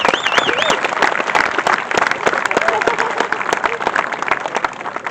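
A large crowd applauds corporate sponsors at a charity event, with loud, dense clapping and some cheering that carries steadily from start to finish.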